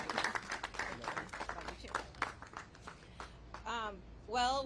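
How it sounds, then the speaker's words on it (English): Audience applause at a press conference as an attorney comes to the podium, a burst of scattered clapping from a room of people that fades, then brief speech. "I think she should be given a round of applause as she comes to the podium"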